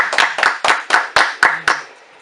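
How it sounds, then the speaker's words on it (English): Several people clap hands together in a studio, seven sharp, evenly spaced bursts of claps, loud and close, stopping cleanly. "Let's go ahead and clap it up here."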